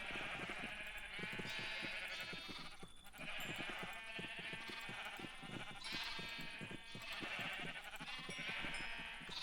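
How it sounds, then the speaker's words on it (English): Flock of sheep in the farming game Ancient Kingdoms bleating constantly, many overlapping calls repeating in waves throughout over a busy ambient game backdrop. "So many sheep."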